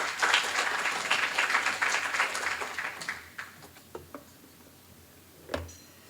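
Conference audience applause greets a speaker at a 2015 regulatory conference, loud sustained clapping for about three seconds that thins into a few scattered claps and fades.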